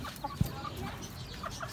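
A hen gives soft, faint clucks just after laying an egg, a few scattered calls over low background noise.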